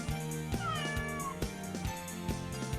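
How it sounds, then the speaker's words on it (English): A cat meows and purrs inside the My Hero Academia Ultra Impact video game, giving several clear meows over steady game music and effects. "am I hearing this in real life? A cat? Purr."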